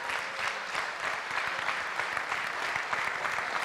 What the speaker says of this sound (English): Let's give them a huge round of applause as well.